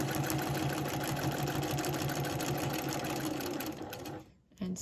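A sewing machine runs steadily through free-motion quilting guided by a Westalee ruler on a piano-keys block, its fast stitching drone continuous and close before cutting off briefly near the end.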